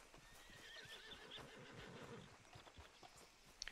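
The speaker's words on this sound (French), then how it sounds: "c'est juste mon cheval" A horse in the video game Red Dead Redemption 2 whinnies over the clip-clop of its hooves, a fairly quiet, lively neigh with a few sharp hoof knocks at the end.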